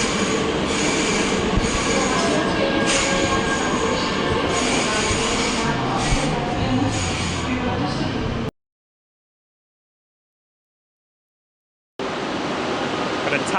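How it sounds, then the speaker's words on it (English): A National Express train pulling out of Köln Hbf, its wheels squealing loudly and continuously over rail noise and station hum, the sound cutting out for a few seconds before resuming. "National Express train there heading off, funnily enough, to Wuppertal."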